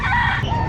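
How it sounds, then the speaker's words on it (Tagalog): A fighting rooster (gamecock) crows close by among many other gamecocks kept on a Philippine property, one loud sustained cock-a-doodle-doo filling the short moment with no talk. "Ito, marami dito mga manok panabong."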